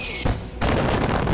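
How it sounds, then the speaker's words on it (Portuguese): Mortar shells burst close by in Far Cry 4, two heavy booming blasts in quick succession, the second rolling into a sustained rumble. "o morteiro caiu aqui perto da gente, ó. Os tiros do morteiro."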